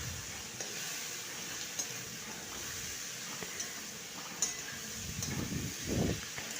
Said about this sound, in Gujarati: હવે આપણે તેમાં મીઠું નાખીશું અને તેને આપણે મિક્સ કરી લઈશું